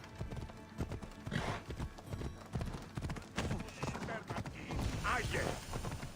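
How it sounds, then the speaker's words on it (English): Hooves clip-clop steadily at a trot in Assassin's Creed Odyssey as a horse moves along, with a brief whinny and game ambience around the steps, fairly close and continuous. "My magic horse magically got up here."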